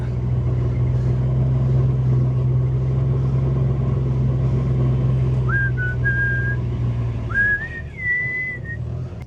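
A vehicle drives across farmland near hay bales with a steady, loud low engine rumble that drops away near the end, while a few short whistled tones sound over it.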